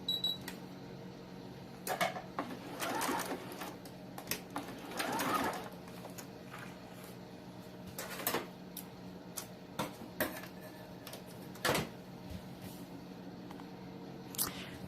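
Sewing machine running a straight stitch through fabric while baby booties are made, in quiet bursts of rapid mechanical ticking with pauses and separate clicks between runs, close and fairly soft, with no speech.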